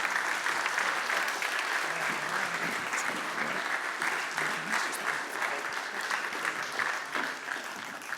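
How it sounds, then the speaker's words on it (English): Sustained audience applause at an automotive supplier innovation awards ceremony, a steady dense wash of clapping that holds at even loudness throughout with no voices over it. "a big round of applause and a big congratulations for this award"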